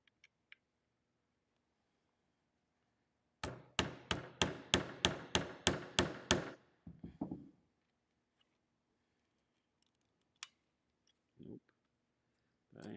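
A hammer strikes metal in a quick run of about eight sharp, ringing blows, then a few scattered lighter taps and knocks in an otherwise quiet space while working on a Miller Spectrum 625 plasma cutter.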